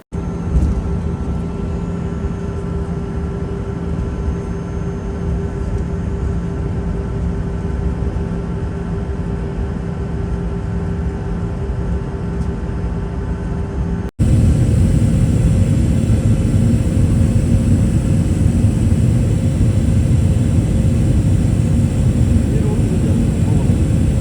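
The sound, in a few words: airplane taking off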